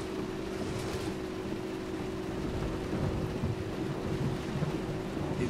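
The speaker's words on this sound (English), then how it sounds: "You can hear the thunder, but no lightning." Thunder in the racing game Assetto Corsa Competizione, a continuous low rumbling roar that persists steadily throughout, with a faint brighter burst near the start and no talking.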